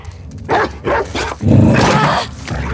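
A dog barks in the video game The Last of Us Part II, several loud close barks in quick succession with a whimpering, yipping edge, the last one drawn out.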